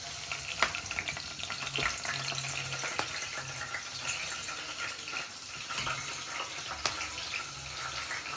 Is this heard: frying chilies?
yes